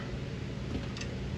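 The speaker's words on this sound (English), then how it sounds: "sorry the noise, I got the heater going here." A heater runs with a steady, low, broadband whooshing hum, constant and fairly quiet throughout.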